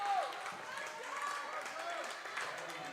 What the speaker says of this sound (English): Good round of applause for the